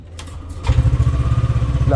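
A Yamaha Aerox scooter engine cranks briefly, then catches and settles into a rough, pulsing idle close by.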